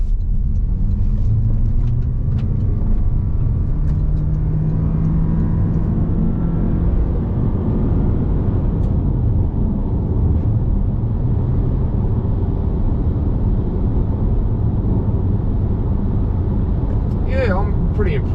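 A 2023 Toyota Corolla Cross all-wheel-drive hybrid, with two electric motors and a combustion engine, accelerates from 0 to 100 km/h as a steady, loud engine and road rumble with a rising drone, and a voice speaks briefly near the end.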